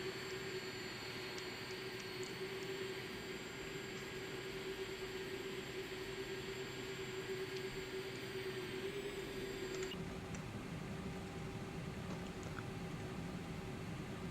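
A Boeing 747-400 Global Supertanker spools up its third jet engine during start, a steady whine and hum from the flight deck that shifts in pitch and texture partway through.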